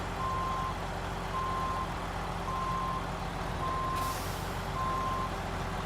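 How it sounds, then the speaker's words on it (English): A truck's reversing alarm beeps in a steady rhythm, five evenly spaced tones over a continuous engine rumble, followed by a brief hiss of air brakes, with no talking. "beep, beep, beep, beep, beep. All the beeps."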